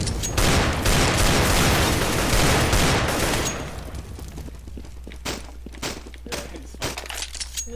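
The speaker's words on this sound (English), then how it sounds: "Throw in fire! Throw in the flashbang!" Gunfire and grenade bursts from a CS:GO match, where a fire grenade and flashbang are thrown, open with a dense loud barrage of shots and breaking glass that thins into scattered clicks and footsteps.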